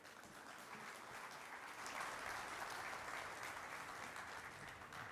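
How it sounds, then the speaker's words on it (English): Steady applause from a large audience for His Excellency Mr. Ali Al Ali at the Dubai World Cup post position draw, a dense and even clapping wash that swells slightly midway and holds for the full stretch. "a big round of applause once again for His Excellency Mr. Ali Al Ali"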